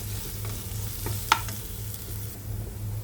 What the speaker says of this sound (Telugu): ఇందులోకి కొద్దిగా అల్లం వెల్లుల్లి పేస్ట్, కొద్దిగా పసుపు వేసి ఒకసారి కలుపుకోవాలి.